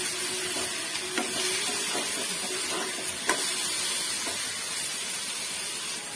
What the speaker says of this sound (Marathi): आता याच्यामध्ये टोमॅटो टाकून घेऊया, थोडीशी कोथिंबीर, सर्व एकजूट करून फ्राय करून घेऊया